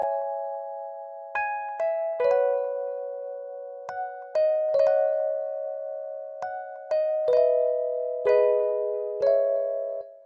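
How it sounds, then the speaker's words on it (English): Basic Suitcase electric piano from Expand plays a series of soft chords, each struck cleanly and left to ring and decay, in an unhurried uneven rhythm, close and clear with no talking. "It's called a Basic Suitcase out of Expand, and we're gonna be playing some chords on top of it."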